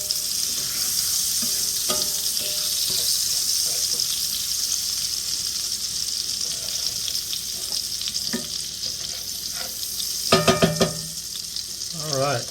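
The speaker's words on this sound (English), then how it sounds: "Alright, so let's add our mushrooms." Mushrooms sizzle and fry in melted butter in a pan for chicken marsala, a steady hissing bed of frying with occasional stirring clatters and utensil knocks near the end.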